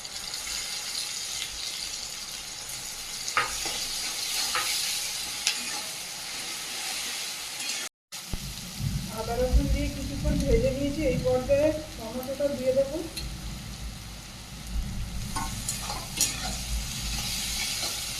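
Fish frying in a pan as ginger-garlic paste and dried chilli go in, a steady close sizzle with bursts of stirring and scraping, briefly broken by a cut before the frying continues.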